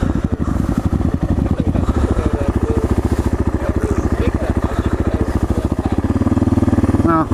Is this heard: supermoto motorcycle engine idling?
yes